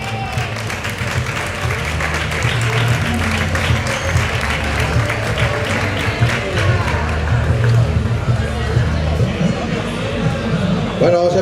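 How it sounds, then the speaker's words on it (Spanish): An audience applauds at an awards ceremony for a dirt rally stage, Tramo de Tierra Cierru Los Pinos 2017. Sustained dense clapping fills the room, with crowd chatter and a voice speaking over it. "Ahora sí podéis aplaudir, que ya lo tenemos aquí."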